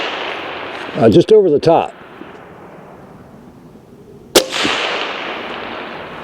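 A lightweight 6mm Creedmoor AR-10 rifle fitted with a direct-thread suppressor fires a single sharp, muffled shot midway through, following a short burst of speech, then a trailing outdoor echo.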